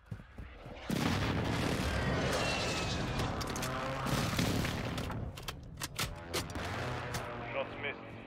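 Airstrike explosions and gunfire in a video game come as a sudden heavy, sustained roar of blasts and rattling shots that rolls on for several seconds. Sharp cracks and bangs are scattered through it.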